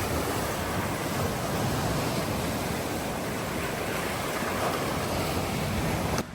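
Ocean waves wash onto a beach at Koh Samet, a steady, loud roar of surf mixed with wind buffeting the microphone throughout, with no voices.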